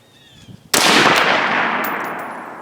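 A Joint Force SPR rifle fires one sharp, loud shot on an outdoor range, and its report rings out in a long, fading echo after a quiet lead-in.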